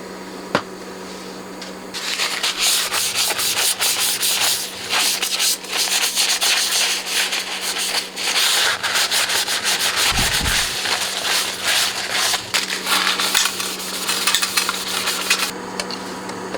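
The front panel of a PS Audio Power Plant 300 power regenerator is wiped clean, a close, continuous scrubbing and rubbing with repeated strokes, over a faint steady hum and one brief thump midway.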